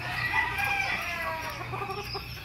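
Chickens cluck and a rooster crows nearby, a busy overlapping chorus of fowl with no talking.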